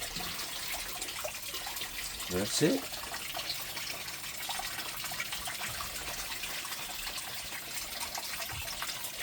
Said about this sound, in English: So I'm going to take a bit of water in here. Let's get our pay dirt a little bit wet.